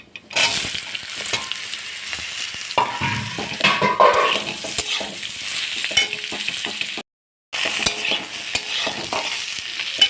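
Fried hard-boiled eggs are stirred back into a sizzling spice tempering for a Bengali sukto, giving a loud continuous frying sizzle with spatula scrapes and clatter and a brief dropout near the end.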